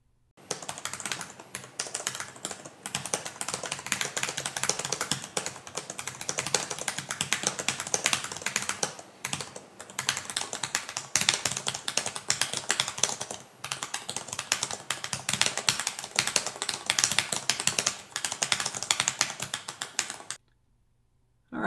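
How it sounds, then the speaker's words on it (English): Continuous typing on the keyboards of watercooled Eluktronics Mech-16 GP and Mech-17 GP2 gaming laptops: a dense, steady patter of close key clicks and taps that runs for about twenty seconds, then stops abruptly, with no voices. "how the keyboard sounds when you're, you know, typing away at it and what level of noise it produces."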